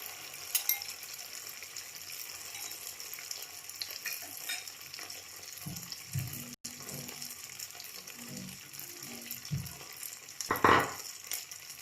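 Sardine egg rolls frying in oil give off a steady, moderate sizzling hiss with a few soft bubbling pops and occasional utensil knocks near the end.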